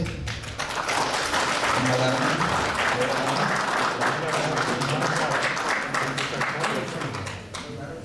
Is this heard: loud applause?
yes